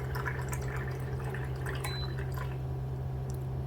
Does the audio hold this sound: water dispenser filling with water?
yes